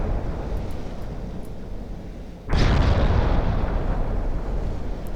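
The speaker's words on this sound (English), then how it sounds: "the 8-inch guns have opened up" Eight-inch warship guns fire in Ultimate Admiral Dreadnoughts, a sudden heavy boom cutting through a steady rumble of naval battle and leaving a loud, sustained roar.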